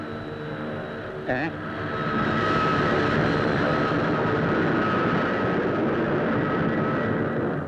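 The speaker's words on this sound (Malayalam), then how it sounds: "എന്റെ വീടിന്റെ മുകളിൽ കൂടെയാ പ്ലെയിൻ വരുന്നതും പോകുന്നതും." An airplane passes low over a house, its engine drone rising after a brief bump and then holding as a loud, sustained roar that fills the rest of the scene.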